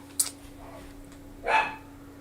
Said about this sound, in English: Dogs are crazy.